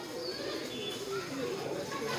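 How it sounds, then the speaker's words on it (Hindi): A Madrasi pigeon coos softly in low, rolling notes, close by, with someone talking over it. "अच्छा कबूतर है मंद्रासी"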